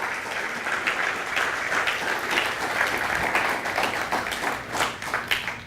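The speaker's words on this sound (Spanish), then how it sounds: "Denle un aplauso al Señor." Sustained applause from a church congregation, a dense, even wash of clapping running steadily throughout without speech.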